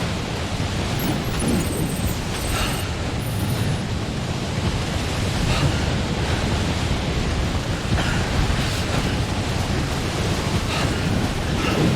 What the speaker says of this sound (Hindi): बाप रे बाप, क्या तूफान आ रहा है